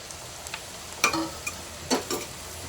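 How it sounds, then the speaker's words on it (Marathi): Mushrooms drop into a hot pan of capsicum for mushroom fried rice, giving faint sizzling with a few soft clinks and stirring taps spaced through the quiet frying. "आता शिमला मिरची नंतर आता आपण टाकतोय मशरूम"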